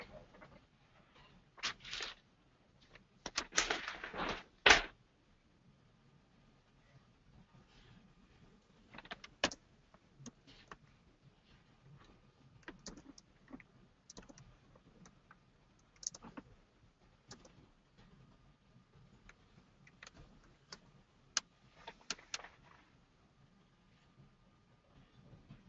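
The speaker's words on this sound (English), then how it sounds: "I'm typing it" Sparse, faint clicking of typing on a computer keyboard, with a louder burst of rapid keystrokes early on and then scattered single taps over a quiet room background.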